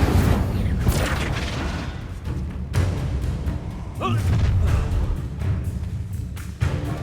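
Incendio fire spell blasts cast in Hogwarts Legacy, a deep booming whoosh amid continuous game combat noise and loud low thuds, with several bursts across the stretch and no speech.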